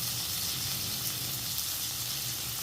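Vegetables for a cauliflower and bengal gram curry sauté in a pan, giving off a steady, close sizzle with no pauses and no voices.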